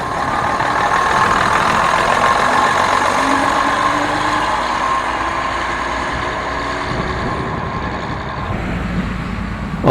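A London RF bus engine runs steadily at the Detling Showground, a continuous close mid-pitched diesel drone holding at an even loudness for the whole stretch, with no voices.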